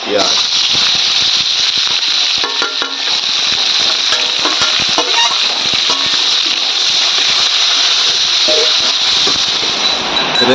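Chopped onions frying in a pan with whole cumin, dried red chili and bay leaves, a steady dense sizzle and crackle running throughout, loud and close, with faint clatter of stirring.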